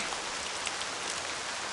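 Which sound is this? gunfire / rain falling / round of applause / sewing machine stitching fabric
rain falling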